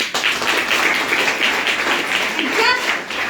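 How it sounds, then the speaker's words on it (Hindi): An audience at a business meeting breaks into sustained clapping, a dense, fairly loud patter of applause lasting several seconds, with a voice briefly heard toward the end. "एक बार ताली बजा दो।"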